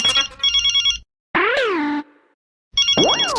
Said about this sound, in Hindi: यार ये बॉस का फोन, ये चैन से कुछ खाने भी नहीं देगा।